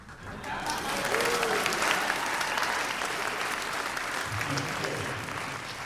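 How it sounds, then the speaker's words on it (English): Theatre audience applauds throughout a live radio show performance, a dense steady clapping that swells early and holds at full strength, filling the hall without any speech over it. "Hold for applause."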